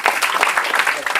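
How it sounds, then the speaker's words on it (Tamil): Audience applause at a Tamil debate-forum stage event, a dense wash of clapping filling the short moment at steady loudness, with no gaps and no clear single claps standing out. "நல்ல ஒரு கைத்தட்டு கொடுங்க."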